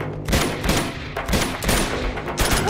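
Gunfire in the video game Uncharted 2: Among Thieves on PS5, a fast fusillade of close, loud shots in irregular clusters, with several heavier blasts spaced through the sequence.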